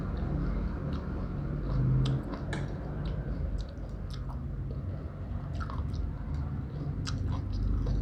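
Quiet, close chewing of spicy Thai instant noodle salad eaten with bitter melon: soft wet squishes and small crunchy clicks repeating irregularly, with no voices.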